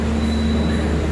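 Jaka Tingkir passenger train pulling away from Lempuyangan station, a steady close rumble with a faint high whine of wheels, heard alone without talk.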